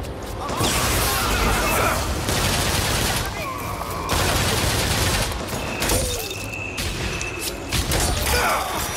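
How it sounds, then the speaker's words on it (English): Rapid bursts of gunfire in the video game BioShock Infinite: Burial at Sea, loud and close, coming in heavy volleys with short gaps between them, mixed with impacts and whooshes. "Who's shooting at me?"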